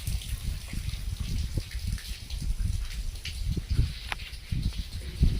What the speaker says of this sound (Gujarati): માર્ગમાં પાણી જવા માંડ્યું થોડું થોડું.